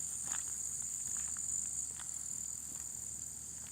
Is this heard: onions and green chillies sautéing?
no